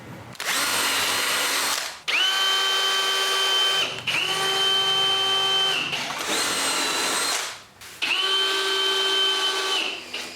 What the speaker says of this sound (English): from behind I screw some stainless steel screws